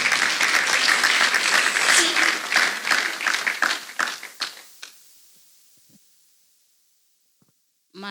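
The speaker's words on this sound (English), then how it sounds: "Let us kindly clap our hands for Jesus." A church congregation claps hands together during a testimony service, a dense burst of applause that thins into scattered claps and fades to near silence around five seconds, with a brief voice at the very end.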